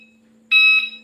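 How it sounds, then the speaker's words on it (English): An electric bike in reverse emits one sharp, loud electronic beep, a steady high tone lasting about a third of a second, close by against a faint background hum. "Well, why is it beeping?"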